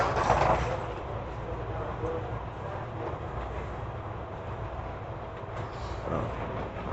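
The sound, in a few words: subway train at station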